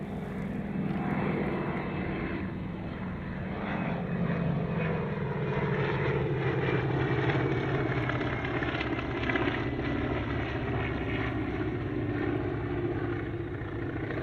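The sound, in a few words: CAC Wirraway propeller aircraft flying at airshow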